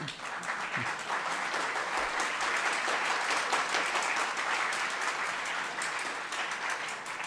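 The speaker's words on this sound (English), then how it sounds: "Oh, don't exhaust your applause on that." Sustained audience applause fills a hall at the McGill Trottier Public Science Symposium, a broad even roar of many hands clapping throughout, fairly loud and unbroken.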